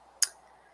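A single crisp computer mouse click, close and fairly quiet, with a short faint tail in an otherwise quiet room.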